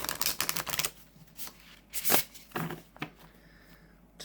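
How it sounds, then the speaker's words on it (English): A linen-finish oracle card deck is shuffled by hand in several quick riffling bursts separated by short pauses, close and crisp in a quiet room. "I love how it shuffles. You know, being linen, it is a lovely shuffle."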